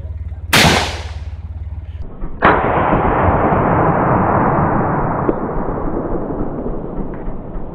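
Two sharp, loud gunshots fired at hard drives ring out a couple of seconds apart; the second leaves a long, heavy rumbling roar that slowly fades.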